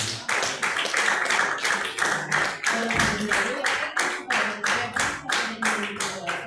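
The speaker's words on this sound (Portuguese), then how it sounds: "Eu vou receber a cena do Senhor com as palmas bem alegres para Jesus" A church congregation claps in joyful worship, steady rhythmic hand claps in unison, close and even, repeating throughout with a faint voice beneath.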